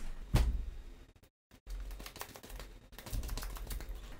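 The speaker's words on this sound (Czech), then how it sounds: "zamícháme balíček karet" Riffle shuffle of a deck of playing cards during a tabletop board game, with a quick burst of flicking and snapping cards near the start, a brief silence, then softer repeated card riffles and taps.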